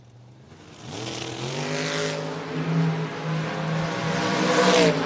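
Drag race cars, a Mustang and a rental car, launch and accelerate hard at a memorial drag race, engines rising loudly in pitch as they pull away and build in volume toward the end.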